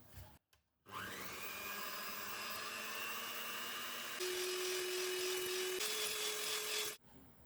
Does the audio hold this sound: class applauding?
no